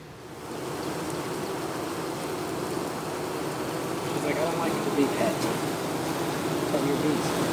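Honeybees buzzing at a hive, a steady dense hum filling the whole stretch, close and continuous with slight swells, with no clear talk over it.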